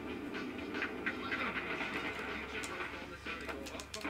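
A subway train in the video game Tony Hawk Pro Skater 2 rolls past with a continuous mechanical rumble and clatter at moderate level, with game sounds and a faint voice mixed in.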